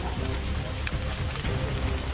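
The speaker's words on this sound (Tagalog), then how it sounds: "Kahit umuulan," Steady rain falls on a mountainside, a dense, even hiss with no break through the short stretch and nothing else standing out.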